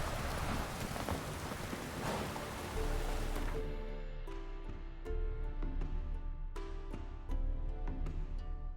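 Steady heavy rain falling with dense broadband hiss, loud and continuous, followed by sharper patters and drops striking a surface over a low rumbling background.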